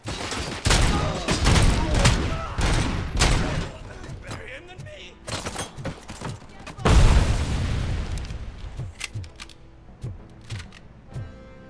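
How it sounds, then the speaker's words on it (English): Bomb explosion and rapid gunfire in the video game RoboCop: Rogue City, loud close bursts of shots and heavy booms in two intense waves, then scattered single shots trailing off. "I odmah bomba, a?"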